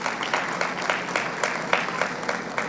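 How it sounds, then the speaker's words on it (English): An audience at a school annual day function at The Shriram Universal School claps together, a full hall of applause with a slightly pulsing, near-rhythmic beat, steady and fairly loud, with no voices. "So a big round of applause to the leadership team."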